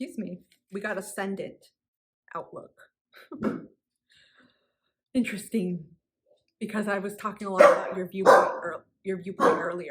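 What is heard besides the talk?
dogs barking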